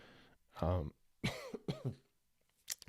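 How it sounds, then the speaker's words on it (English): A few harsh coughs and throat-clearing sounds in quick succession, close and moderately loud, separated by short silences. "That cough came out of nowhere."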